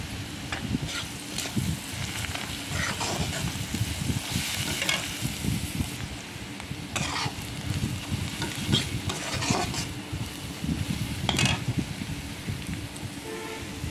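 Turmeric, cumin and chili powder frying in a pan, a continuous dense sizzle with frequent scraping stir strokes against the metal, close and steady throughout without any voice.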